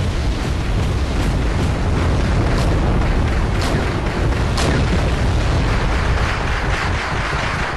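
Anti-aircraft units in the Wargame: European Escalation strategy game fire inaccurately into woods, a dense, continuous roar of rapid cannon fire and blasts with scattered sharper cracks, steady and loud throughout.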